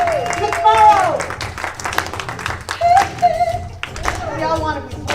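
An audience claps and cheers for Reverend Mike McMorrow, with whoops and shouted voices over steady close applause for several seconds.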